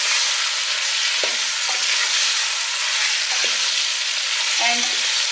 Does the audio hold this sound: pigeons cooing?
no